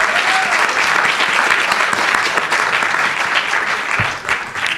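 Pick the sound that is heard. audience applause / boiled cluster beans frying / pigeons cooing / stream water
audience applause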